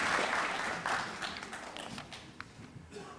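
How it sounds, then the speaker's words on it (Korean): A church congregation applauds during a church anniversary and ordination service, a brief burst of clapping that starts fairly full and then thins out and fades to a few scattered claps. "여러분 힘찬 박수로 도와주시길 바랍니다."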